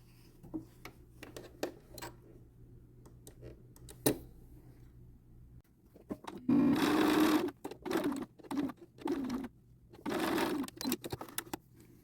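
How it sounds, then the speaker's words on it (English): Home sewing machine stitching the quarter-inch front seam of a pair of pants, a close mechanical whir in several short runs broken by brief pauses, with faint handling clicks before it starts. "we're just going to sew at 1/4 of an inch this front seam"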